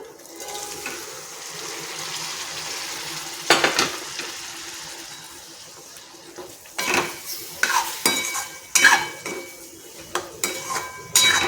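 Boiled chickpeas stirred into chole masala in a metal pan, a low sizzle broken by a loud spoon clank, then a run of repeated scraping and clattering strokes against the pan, close and fairly loud.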